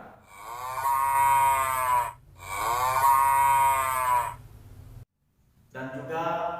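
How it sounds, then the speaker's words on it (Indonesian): A cow moos in two long, loud, drawn-out calls, then a third call begins after a brief silence. No other sounds compete. "Contohnya bunyi sapi."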